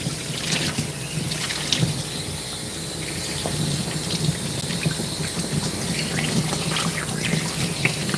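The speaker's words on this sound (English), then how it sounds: "give him a rinse" Water from a grooming hose or sprayer rinses a dog, a steady splashing gush that runs unbroken throughout, close and fairly loud with small drips and splatters on top.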